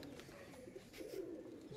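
Pigeons in a loft holding sixty to seventy birds coo softly and continuously, a low murmuring bed of overlapping calls at moderate distance with no talk.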